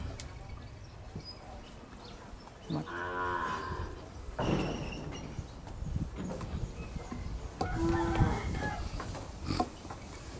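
Cattle at a livestock market in Tak, Thailand give a few loud moos among the steady hubbub of the market, while people talk throughout.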